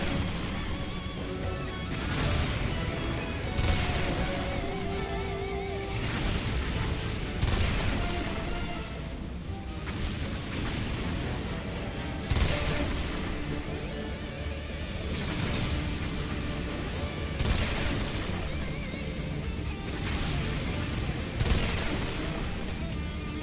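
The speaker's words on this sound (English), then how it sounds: "We've got to just artillery them." Artillery fire in Earth Defense Force 2025, fired from the Fencer's artillery weapons, comes as continuous rumbling volleys with repeated heavy booms and crashes every few seconds over a dense, loud battle din.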